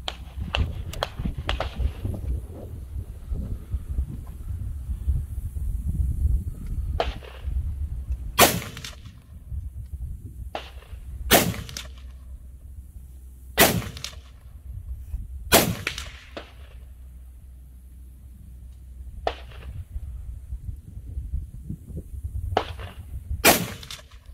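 Sharp gunshots from a 300 Blackout PDW at a gun range, single loud cracks spaced a few seconds apart over a steady low rumble of range noise, with faint talk in the background.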